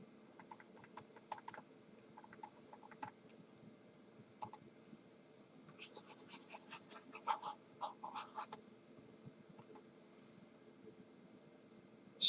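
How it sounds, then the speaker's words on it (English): Calculations being written by hand with a pen on paper during a physics lesson: faint, intermittent scratching strokes in short bursts over a quiet, steady background hum. "And let me write it down here."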